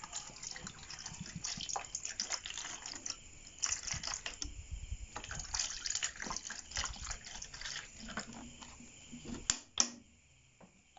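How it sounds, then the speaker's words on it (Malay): Water runs into a container for washing bougainvillea roots, a steady splashing gush with clicks and knocks scattered through it, ending in a few louder thumps. "Masukkan air dulu dalam bekas ni."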